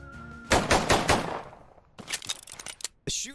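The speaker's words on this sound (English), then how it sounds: "The shooting is pretty solid, actually." Gunfire rings out in a wild west cowboy life simulator video game. A quick burst of several shots is followed after a pause by a ragged second volley and one last crack, all loud and close.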